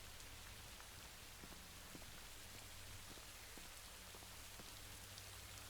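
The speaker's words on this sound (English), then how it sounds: "You can hear the rain on different textures." Steady rain patters on varied surfaces in the Rising World video game, a dense continuous hiss with scattered distinct drop ticks, fairly faint and even throughout with no voices.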